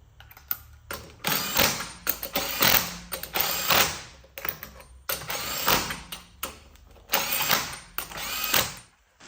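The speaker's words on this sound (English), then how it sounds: "I'm going to use this electric impact bit driver under my own discretion." Electric impact bit driver running on wheel spacer lug hardware during an aftermarket wheel spacer install, loud repeated ratcheting hammer bursts with short pauses between, close up and without talk.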